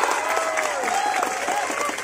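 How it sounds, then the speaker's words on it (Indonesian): An audience at a religious boarding school anniversary event bursts into dense applause, a steady wash of clapping with a few cheers, while a voice talks briefly over the crowd. "Tepuk tangan buat Kang Ajis Gagap"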